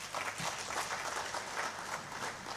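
Audience applause at a student climate innovation summit, a brief burst of dense, even clapping from a crowd, moderately distant and steady throughout.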